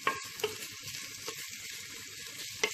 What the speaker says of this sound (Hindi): जब तक हमने इसको फ्राई करना है अनियंस को जब तक कि गोल्डन ब्राउन ना हो जाए